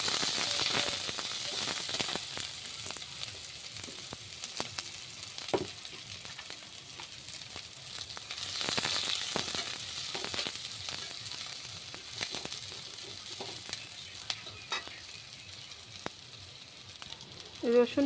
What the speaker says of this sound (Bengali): রসুন পেঁয়াজ খুব ভালোভাবে ভেজে নিয়েছি।